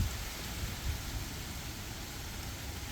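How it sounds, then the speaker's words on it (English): Steady rain falls on a Gulf Coast summer garden in Texas, making an even, dense hiss with a low rumble underneath. There are no voices. "Well, it is raining just when I was finishing up."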